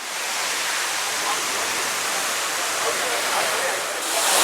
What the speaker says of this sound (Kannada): ನೋಡಿ ಜಲಪಾತ ಕಾವೇರಿ ನದಿ ಹರಿತಾ ಇದೆ